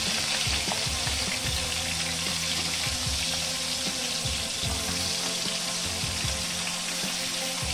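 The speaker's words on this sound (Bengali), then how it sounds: "চিংড়ি মাছগুলিকে আমি মাত্র 2 মিনিটের জন্য ফ্রাই করে নেব।" Prawns fry in hot oil with a steady, dense, loud sizzle and bubbling hiss that continues without a break throughout, with no voices.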